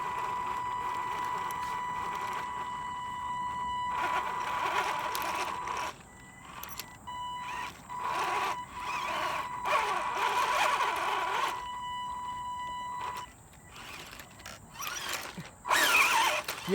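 A RUKO Q111 1:12 scale RC tank's motor and gears whine and grind while it climbs a steep slope, the motor rising and cutting out in bursts, close by with no talking.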